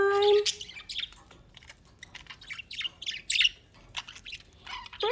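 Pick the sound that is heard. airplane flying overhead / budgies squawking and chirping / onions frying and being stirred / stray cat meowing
budgies squawking and chirping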